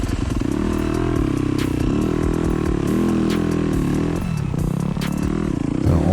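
A dirt bike rides a sandy trail with a loud, continuous engine drone that rises and falls with throttle, joined by occasional rattles and clatter from the machine.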